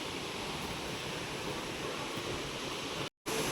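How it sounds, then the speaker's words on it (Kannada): Distant waterfall on a hiking trail in Wayanad, a steady broadband rush of falling water, soft and continuous, with a brief dropout near the end. "ಸೌಂಡ್ ಅಂತೂ ಬರ್ತಿದೆ ನೀರು"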